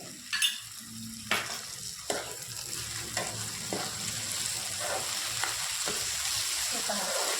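Chopped bottle gourd curry sizzles in a pan with yogurt added. A spoon stirs and scrapes through it in irregular strokes every second or so, under a constant frying hiss.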